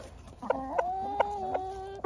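Rooster giving a run of short, rhythmic food-calling clucks up close to summon hens, repeated roughly every half second over quiet farmyard background.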